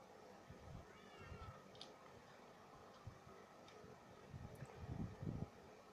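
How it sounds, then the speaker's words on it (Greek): Cats in the Minecraft video game give a few faint, brief meows against steady background game noise. "Εδώ κάτι γάτες."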